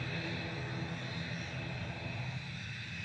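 A KLM airliner departs for Amsterdam from Manchester Airport. Its engines give a steady, distant roar that holds evenly throughout, with no talk over it.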